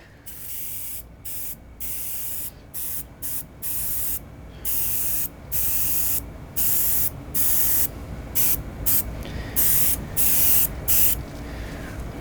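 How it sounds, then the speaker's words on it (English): Spray gun laying clear gel coat with no wax additive over a fiberglass metalflake repair, a loud steady hiss in repeated bursts with short pauses between passes, no talking. "I'm actually going to spray another layer of clear over that"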